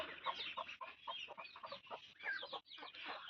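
A broody hen shut in an enclosure with her six newly hatched chicks clucks in quick, repeated bursts, close and quiet, while thin peeps come from the chicks.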